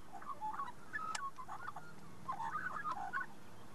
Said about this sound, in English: Pied Currawong, otherwise known as a magpie.